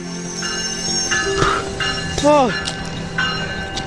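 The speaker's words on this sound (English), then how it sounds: "Stop the train!" A train grinds toward a stop, rumbling with a sustained hum and a sharp rising-and-falling metallic squeal of brakes midway, while a voice briefly exclaims nearby.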